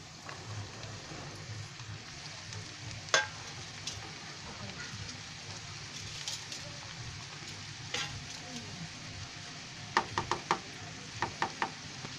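Pointed gourd cooking in a pan with carrot, giving a steady soft sizzle like light rain, broken by a few sharp knocks and taps of a spoon against the pan, no talking.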